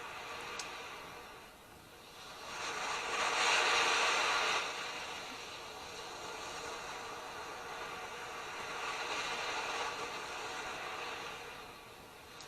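A sleep therapy sound machine plays an ocean setting, a soft hiss of surf that slowly swells and eases in broad waves, faint and steady with no talk over it.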